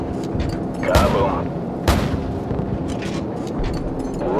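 An airstrike explodes in Call of Duty 4: Modern Warfare, with two loud, heavy booms about a second apart. They stand out over a steady rumbling battlefield background.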